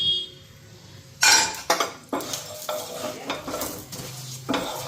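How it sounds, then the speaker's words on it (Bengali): Country chicken pieces go into hot oil in a home kitchen pan, with a sudden burst of sizzling followed by repeated scrapes and stirring knocks of a utensil against the pan, fairly close and without talk. "এদিকে তেল দিয়ে দিই, ভাজিয়া নিই এখন।"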